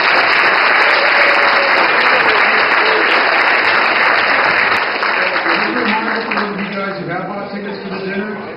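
A round of applause from the audience at a Korean culture day event stays loud and dense, then thins as voices and chatter rise over the tapering claps.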